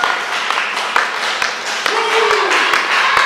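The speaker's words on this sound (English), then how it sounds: "listen to the crowd going wild" A wrestling crowd at a live indoor match cheers and claps in a steady roar, with sharp claps popping through at a regular beat while a commentator talks over it.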